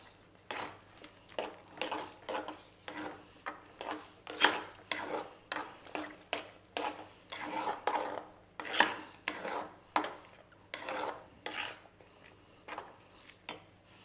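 Lentils that were cooked beforehand go into roasted semolina in a pan as rava pongal is made, with a run of sharp clinks and scrapes of a spoon against metal coming in steady, uneven bursts, close and fairly clear.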